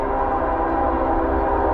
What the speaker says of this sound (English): Give me a horn show. Come on, lay on it. Got a CSX.